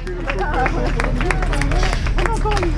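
Spectators clapping and cheering as runners finish the Alençon-Medavy road race, steady scattered applause and crowd babble beneath a commentator speaking in French over a loudspeaker.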